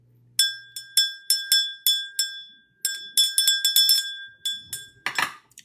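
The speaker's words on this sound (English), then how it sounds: "when I ring this bell, this is how it's delivered" A small handbell rung in quick repeated strokes, bright sustained metallic rings in an uneven rhythm, close and fairly loud, ending with a final jangling shake.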